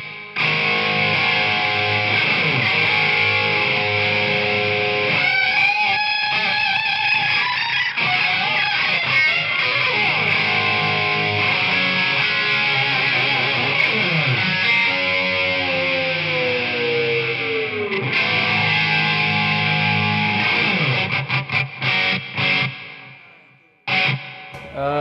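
Electric guitar played through a Marshall CODE 50 amplifier on its Jubilee amp model with distortion, sustained loud chords and notes ringing for about twenty seconds before cutting off, then a brief burst at the end.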